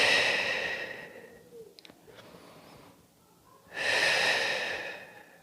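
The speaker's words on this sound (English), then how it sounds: "we're going to take 3 big rounds of breath there" Deep, audible breaths taken during a Pilates workout for runners: a long, airy exhale, a quiet pause with faint rustling, then another strong breath, close to the microphone.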